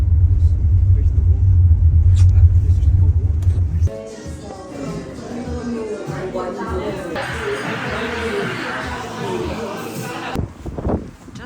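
A bus engine rumbles steadily on the ride into Stornoway, a deep low drone that cuts off partway, leaving road and wind noise with voices talking.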